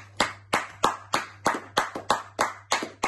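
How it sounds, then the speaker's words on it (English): A single person claps at a Hampshire Scouts annual review, about ten sharp, evenly spaced claps, close and clear over a low steady hum, with no voices. "let's give you a round of applause"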